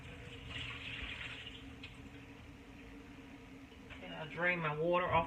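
Water pouring off cut russet potatoes as they are drained in a kitchen sink, a soft continuous running splash that grows louder near the end, with a voice talking over it.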